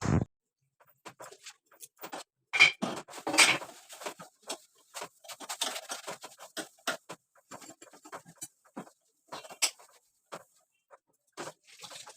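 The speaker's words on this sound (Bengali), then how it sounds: "কড়াইটা বেসিংয়ে মেজে নিচ্ছি।" A wok is scrubbed in a kitchen sink basin, giving irregular bursts of scratchy scouring and light clattering strokes separated by short pauses, close and moderately quiet.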